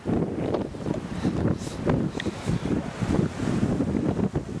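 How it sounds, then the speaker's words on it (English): Gusty wind buffets an outdoor microphone on a woodland walk in South Devon, producing loud, irregular low rumbling bursts that swell and fade continuously with no voices. "What a noise! Well, the wind's getting up."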